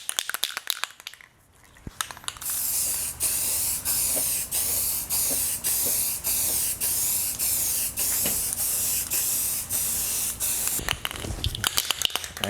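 Short, regular bursts of an aerosol spray can lay another coat of paint on a part for a 1972 Honda CB450 cafe racer, each close, loud hiss lasting under a second with brief gaps between.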